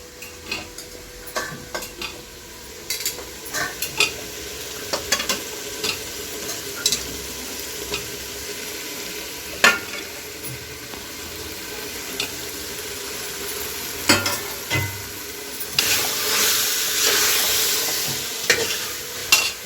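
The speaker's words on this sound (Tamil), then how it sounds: "இந்த மசாலாவிலையே போட்டு நல்லா பரட்டிக்கலாங்க." Sliced mushrooms stir-fried in a spiced tomato masala for mushroom biryani, a steady sizzle with repeated scraping and stirring strokes of a spoon against the pan, close and continuous with no talking.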